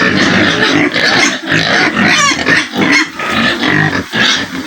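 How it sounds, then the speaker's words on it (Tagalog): A young male pig, under two months old, in a farm pen grunts and squeals loudly and close, in a series of rough bursts with short breaks between, without talk. "Kung ito kalalaking baboy, yan."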